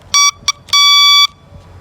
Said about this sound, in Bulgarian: има клаксон